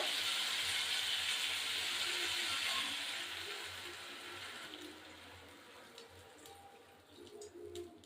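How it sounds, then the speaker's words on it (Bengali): Water is poured into a pot of thin rohu fish curry, a steady bright splashing rush for about three seconds that then fades to a softer bubbling simmer. "এবার সামান্য একটু জল দেবো।"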